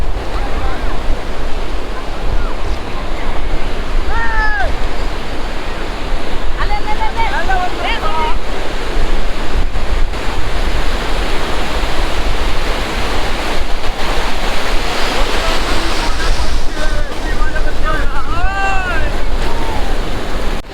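Sea waves at Shankarpur beach roar and wash ashore in a loud, continuous surge with wind buffeting the microphone, while faint voices drift in and out now and then.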